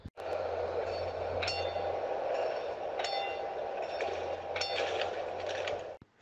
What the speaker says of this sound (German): Vorsicht an Gleis 2, ein Zug fährt durch.